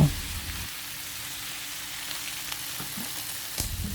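Chicken and vegetables stir-frying for a Thai sweet-and-sour mixed dish in a pan, a steady soft hiss of sizzling with a few faint scrapes and stirs, continuous and fairly quiet with no talking.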